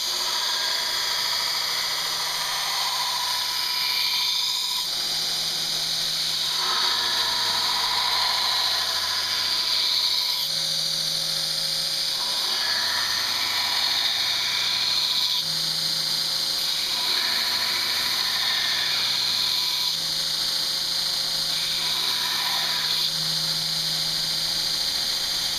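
A TW-90 flat platen belt grinder with a pivoting motor and drive wheel runs steadily, a constant high whine and hum with faint periodic swells and low thumps repeating every few seconds.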